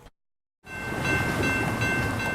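A train rolls through a neighborhood of LaGrange, a steady loud rumble of rail cars with a sustained tonal whine, rising abruptly after a brief silence and holding for the rest of the stretch.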